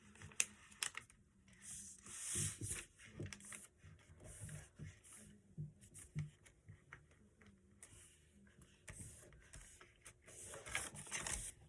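Paper being folded into an origami plane, soft close rubbing and creasing with scattered crinkles and taps, quiet and intermittent.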